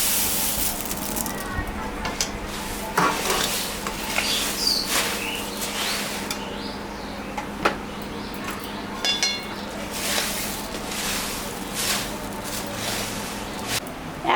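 Puffed rice being stirred into melted jaggery in a pan for sweet rice balls, with dry rustling, scraping and occasional clinks of a spoon against metal, while someone talks intermittently throughout.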